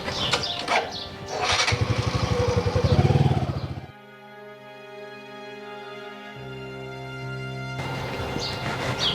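A motorcycle riding past on a village road, its engine note swelling loud as it draws near and then cutting off abruptly, followed by a quieter steady tone and background noise.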